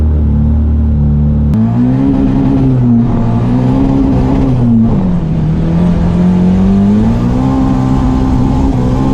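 A modified Mazda Miata accelerating hard, its engine note loud and close, climbing through the revs with a brief dip at a gear change before pulling up again.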